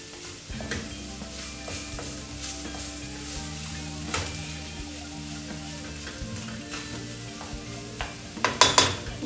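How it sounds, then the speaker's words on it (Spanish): Vegetarian pastel de choclo filling sizzles and fries steadily in a pan while being stirred, with soft scraping and a brief clatter of cookware near the end; no talking. "De esta manera vamos cocinando el relleno de este pastel de choclo"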